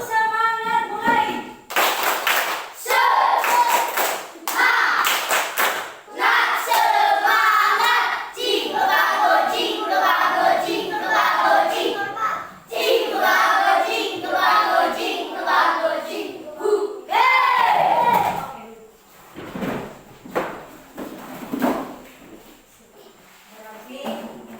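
Students in a classroom do rhythmic spirit clapping: patterned bursts of many hands clapping in unison, broken by brief pauses and mixed with young voices chanting along, loud and close.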